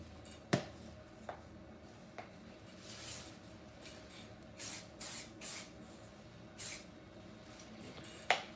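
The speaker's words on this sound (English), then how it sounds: "I spray fix again." Fixative spray hisses onto a car drawing in several short bursts, with a few sharp clicks from the can between sprays in a quiet room.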